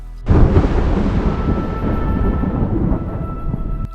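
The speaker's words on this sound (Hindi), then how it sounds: "जैसे पानी शुरू किया उस समय गरजता है" Loud, continuous rumbling thunder rolling through a rain shower in a lightning-prone village near Ranchi, rising abruptly and sustaining a deep roar for several seconds with no voices.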